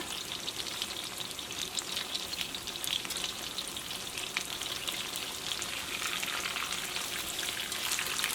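Soft, steady crackling and sizzling of chicken frying in hot oil, with irregular pops throughout and no voices.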